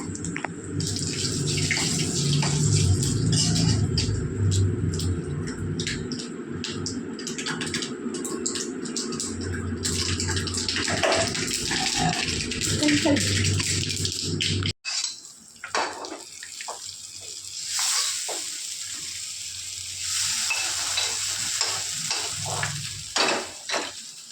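A tempering with asafoetida and dried red chillies is poured over cooked greens, giving a loud, crackling sizzle with stirring clatter that cuts off abruptly midway, then a thinner, sputtering fry continues; no speech.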